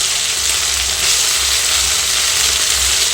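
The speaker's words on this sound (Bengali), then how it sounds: "এবারে পোস্ত বাটা দিচ্ছি।" Poppy seed paste hits a hot frying pan for brinjal siraj, giving a loud, steady sizzle and crackle that fills the whole moment without pause.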